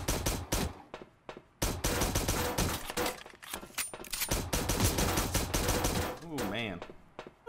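Rapid bursts of gunfire in the 2D battle royale game surviv.io, with dense clustered shots packed into the first six seconds, a brief gap, then a warbling synthetic effect near the end.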